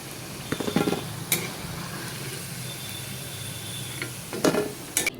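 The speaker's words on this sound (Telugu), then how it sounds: "ఇప్పుడు ఈ నూనెలోనే ఒక ఐదు పచ్చిమిరపకాయలు కరివేపాకు ఇది జస్ట్ అట్లా నూనెలో వేయించుకొని తీసేసుకున్నాం" Green chillies and curry leaves frying in hot oil in a pan, a continuous close sizzle broken by a few sharp stirring clanks of a utensil against the pan, with no talking.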